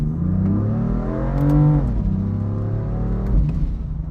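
A 2017 BMW M4 Competition accelerates hard and breaks traction, its engine droning loud and close as the pitch rises, dips at a shift, then climbs again, no talking.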